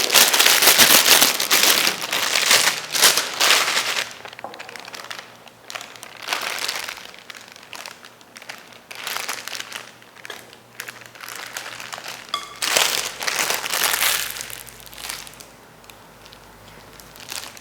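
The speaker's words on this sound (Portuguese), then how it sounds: "aqui eu vou colocar no meu saco de confeitar a cobertura" Frosting is spooned and pressed into a plastic piping bag, producing bursts of crinkling and rustling plastic that come and go in uneven handfuls, close and moderately loud.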